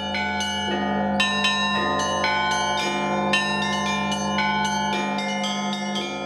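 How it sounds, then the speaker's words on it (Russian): Full cathedral bell ensemble of 15 bells totalling over 30 tonnes, rung at a bell festival in St Petersburg, with bright overlapping strikes in quick rhythmic peals over a sustained deep humming resonance, loud and continuous. "полный колокольный ансамбль составляют 15 колоколов общим весом более 30 тонн"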